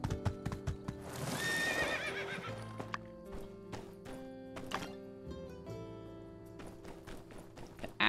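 A rented horse in the farming game My Time at Sandrock lets out a clear neigh near the start, followed by scattered hoof clops and light thuds at close range.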